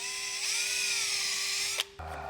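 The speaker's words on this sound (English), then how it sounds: "I'm going to drill these this way just because it can sit nicely against that edge there" A power drill whines steadily while boring hinge screw holes into a door, its pitch rising slightly as it speeds up, then cutting off abruptly and leaving a lower mechanical hum.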